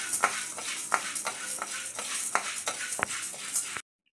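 Toor dal roasting in a pan while being stirred, with repeated scraping strokes and rattling lentils about every half second over a light sizzle, close and fairly loud, stopping abruptly at the end.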